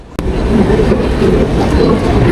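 The Rupsi Bangla Express rolls through Narail railway station with a loud, continuous rumble and rhythmic wheel clatter, opened by one sharp bang, with no voices.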